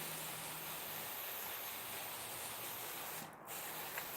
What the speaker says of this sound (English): It was kind of geared towards spraying bigger trees, but I could really do with the finer mist.